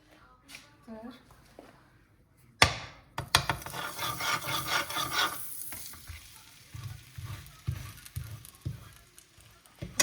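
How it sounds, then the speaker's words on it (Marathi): A tortilla roasting in butter on a hot pan gives a loud sizzle that flares up suddenly, with stirring, scraping and rubbing against the pan and a voice talking over parts of it. "आता इथे मी घेतलेला आहे टॉर्टिला आणि त्याच्यानंतर आपल्याला हे छान बटर लावून भाजायचं आहे"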